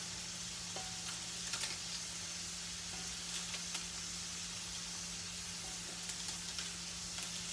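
Shrimp sizzle steadily in fully melted butter in a pot, a continuous close crackling hiss with small pops and a low electrical hum beneath, no voices.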